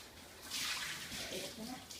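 Water pours off cooked eggplant while it drains for a Cambodian steak salad, a close splashing rush that swells and then eases over about two seconds.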